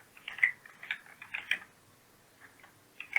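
Someone types on a computer keyboard while working in MS Word, producing a soft, irregular run of close key clicks in small clusters separated by brief pauses.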